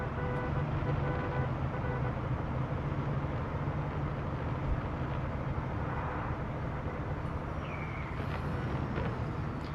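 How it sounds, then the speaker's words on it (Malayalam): A bus driven in the Car Parking Multiplayer video game produces a steady, fairly quiet low engine drone with a continuous rumble and no noticeable changes. "മിന്നൽ മുരളിയുടെ ബസ്സിൽ നമ്മൾ ഇതുവരെ കയറിയിട്ടില്ല."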